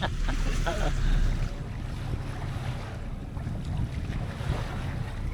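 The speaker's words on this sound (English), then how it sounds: "The wind's starting back up." Steady wind rushes across a sailboat at sea near Gibraltar, a continuous broadband roar with gusting microphone buffeting and faint water wash, louder at the start and then holding level with no one speaking.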